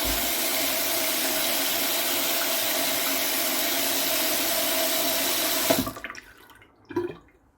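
Hands being rinsed under a running tap, a steady loud rush of water close by that cuts off near the end, leaving a few faint drips and handling noises.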